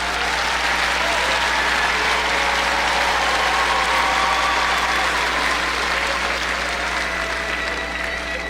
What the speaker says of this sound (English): I invite a round of applause for the candidates for master's degrees.